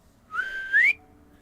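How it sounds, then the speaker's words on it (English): A single whistle blown at a dock, a clear, fairly close tone that holds steady and then slides upward before cutting off, alone against quiet background. "As you make your way up the dock and past the individual who is attending the dockway, you would hear a whistle in that."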